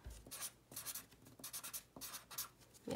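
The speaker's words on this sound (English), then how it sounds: "First thing you're gonna do with your blank piece of paper is write your name" Pencil or pen writing a name on a blank sheet of paper, a close, quiet run of short scratchy strokes in an uneven rhythm with brief pauses between letters.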